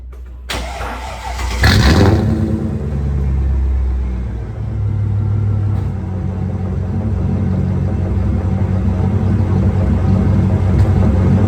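A Mercedes CLK55 with a custom-built exhaust cold-starts with a sharp crank and catch, then settles into a loud, steady, deep idle rumble that holds close and constant without talk.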